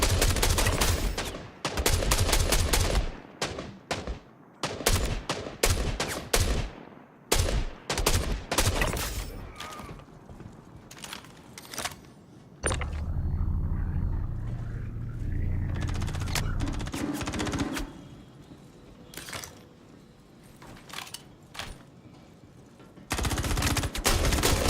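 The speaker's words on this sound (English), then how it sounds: "Stop shooting my ship." Gunfire in the space game Star Citizen, with dense bursts of rapid shots and loud fusillades coming in clusters over about twenty seconds, broken by a stretch of lower rumbling engine noise before more shooting resumes.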